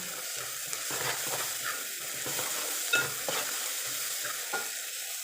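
Ginger garlic paste frying with half a kilo of chicken in a pan. A steady sizzle runs throughout, broken by repeated scraping stirs of the spoon.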